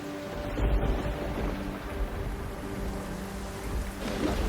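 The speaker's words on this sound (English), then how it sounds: "The problem was the rain." Steady rain falls in a dense, even hiss with a low rumbling undertone, moderately quiet and continuous, with no voices.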